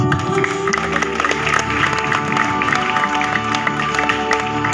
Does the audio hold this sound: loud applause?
yes